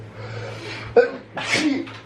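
A single sharp sneeze bursts out close by in a family setting at a resort, followed by a brief breathy exhale, with faint background noise around it.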